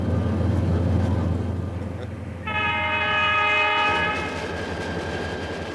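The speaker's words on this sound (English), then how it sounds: "By evening, the train is in eastern Nevada." Salad Bowl Express freight train rolling through eastern Nevada, its horn sounding a sustained multi-tone chord for about two seconds over steady rumbling rail noise, loud and close.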